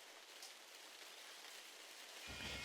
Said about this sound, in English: It's still raining, in fact